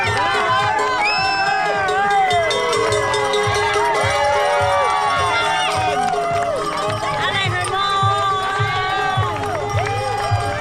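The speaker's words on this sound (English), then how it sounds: "Look at this crowd, insane." Dense crowd cheering and shouting for runners at the UTMB 2024 ultra trail race, a loud continuous wall of voices with clapping and calls close around, footsteps thudding rhythmically underneath.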